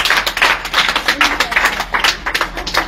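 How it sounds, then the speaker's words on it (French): A church congregation claps together, close and loud, in a quick, uneven rhythm with voices mixed into the clapping. "On applaudit cet esprit."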